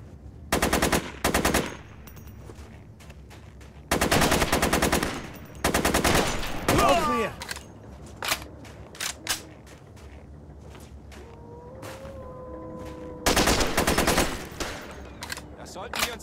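Bursts of machine gun fire from a Royal Marines Commando combat video game, several loud rapid volleys of a few seconds each separated by quieter stretches with creaks and a faint shout.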